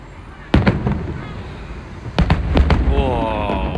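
Outdoor New Year fireworks at a Chinese street gathering, one sharp bang followed by a few echoing pops, then a second cluster of booms while a voice speaks briefly amid crowd noise.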